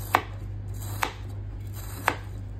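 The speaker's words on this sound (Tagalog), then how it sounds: "Hiwain natin siya. Chicken breast ang gamit ko." Knife cutting through chicken breast on a board: three sharp, evenly spaced chops about a second apart, close and distinct over a low steady background hum, no talking.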